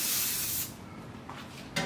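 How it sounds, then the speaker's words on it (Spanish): Aerosol glue sprays onto kraft paper bags in one brief, loud burst of hiss that cuts off, then a faint settling noise and a short second puff at the end. "lo que sigue es agregar un poquito de pegamento con aerosol"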